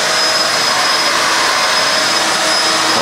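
A vacuum cleaner runs steadily at regular speed during a cleaning pass, giving a loud, constant whooshing roar with a faint high whine and no pauses or talk.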